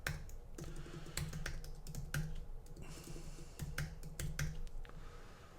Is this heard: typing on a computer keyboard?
yes